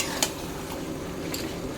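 Meat being stir-fried in oil in a pan, a steady sizzle with a couple of brief utensil scrapes and clinks.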